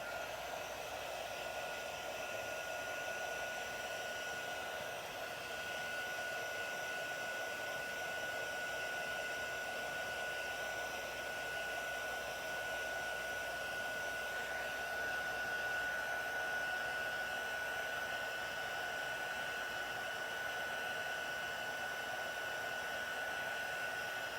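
A heat tool blows hot air over an embossed stamped card to set the embossing powder, making a steady, close whirring fan roar with a faint high whine that holds constant for the whole stretch, with no talking.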